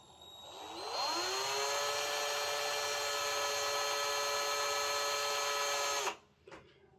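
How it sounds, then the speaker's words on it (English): Large drill bit countersinking a plastic insert on a Bachmann Branchline Class 4 model locomotive: a steady high whine spins up and holds for about five seconds, then cuts off abruptly with a brief rattle. "So I'm going to use a quite large drill bit just to countersink the"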